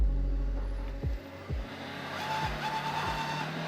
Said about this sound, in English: the wheels are just spinning and he's slipping the clutch and it's just making a toll on the car